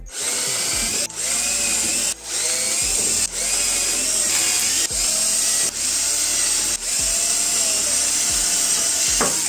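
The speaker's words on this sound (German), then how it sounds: "wenn wir jetzt ein Loch bohren" A power drill whines steadily in repeated bursts while drilling holes in wood panelling, stopping briefly about every second or so, loud and close, with no talking.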